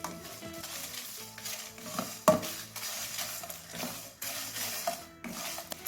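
Masala roasting in a kadai over a low flame, a quiet sizzle with repeated stirring scrapes and one sharp clink of utensil on metal.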